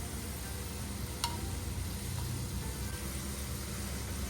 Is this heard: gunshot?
no